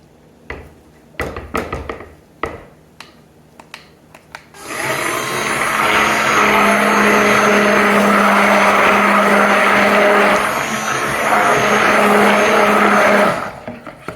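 Stick blender whirring steadily through soap batter made with oils and neem at a 9% superfat for a dog soap bar, starting after a few scattered clicks and knocks and running loud and continuous for about nine seconds before cutting off.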